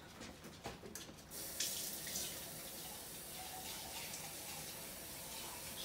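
Tap water runs steadily into a can while making a Marak Katom soup, a close, continuous splashing gush that swells louder partway through and keeps flowing to the end.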